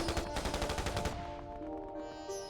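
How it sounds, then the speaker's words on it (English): Gunfire in the video game 428: Shibuya Scramble, a loud rapid burst of shots for about a second, then a ringing, fading tail with a sustained tone. "Immediately starting with gunshots."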